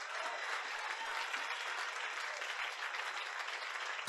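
A church congregation breaks into sustained applause, a dense even wash of clapping from a large crowd that holds steady for several seconds without pause.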